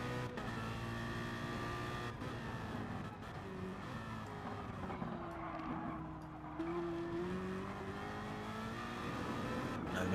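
Race cars lapping the Nürburgring GP Circuit in a racing video game, engines droning and rising in pitch through gear changes, with tyre noise underneath, steady and fairly close.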